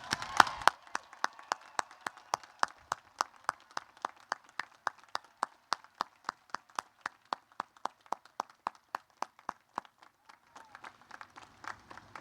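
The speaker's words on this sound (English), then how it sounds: "Please join me in a heartfelt round of applause." Steady, evenly spaced claps ring out in a regular rhythm for several seconds at a Coast Guard Academy commencement honoring graduating cadets, fading near the end.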